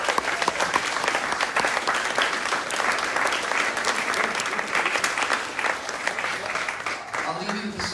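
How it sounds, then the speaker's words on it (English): Sustained crowd applause fills a solo acoustic concert hall after a mastering engineer is introduced, dense and steady throughout, fading slightly near the end as a voice and faint tones emerge. "Please give him a round of applause."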